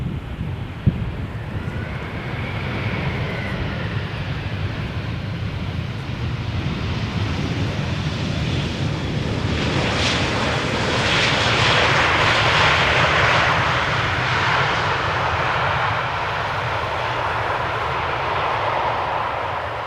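A Vueling airliner arriving over Amsterdam Schiphol's Polderbaan on a hot, sunny day makes a steady, rumbling engine roar that swells to its loudest midway, then holds as it passes.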